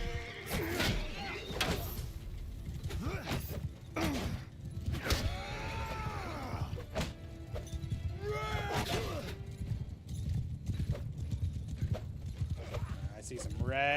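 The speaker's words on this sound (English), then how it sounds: "They got some horse archers going at us now." Horse archers gallop in the video game Bannerlord, their rapid hoofbeats clip-clopping along with an occasional whinny, while someone talks over the action throughout.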